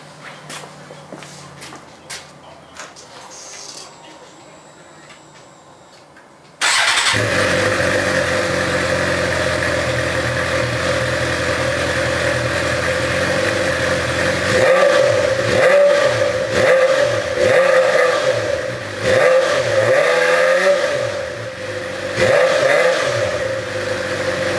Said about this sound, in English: So I'll fire it up here.